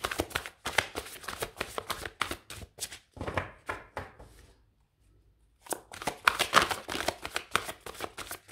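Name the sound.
tarot cards being shuffled and drawn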